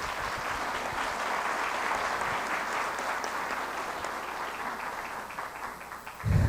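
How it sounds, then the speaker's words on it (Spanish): A seated audience at a protocol presentation gives the speakers a sustained round of applause, dense and even, fading a little before a louder bump right at the end. "Brindemos un fuerte aplauso a nuestros ponentes."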